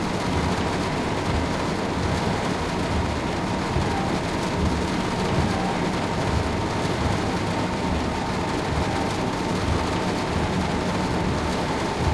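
Heavy rain in Train Sim World 5 on a train run around Brighton: a dense, steady wash of rainfall with a low rumbling undertone, continuous and even in loudness throughout.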